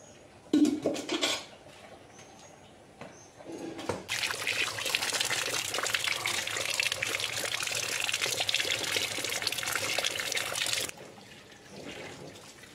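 Ripe palm fruits being scrubbed and washed, with water splashing and sloshing steadily for several seconds alongside clattering of pots and utensils, close by, with no one speaking.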